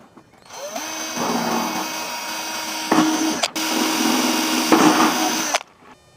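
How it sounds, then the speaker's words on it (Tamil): Electric drill boring holes in a plastic water can to make a fish trap. Two sustained whining bursts of a few seconds each, close and loud, separated by a short pause and a sharp catch, with no talk. "இதுக்கு அப்படியே நம்ம அப்படியே ஹோல்ஸ் போட்டுக்கலாம்."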